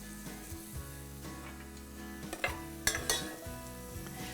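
Chopped onion sautés in a pan for a zucchini and tomato dish, a soft steady sizzle with a few clinks and stirring scrapes near the end.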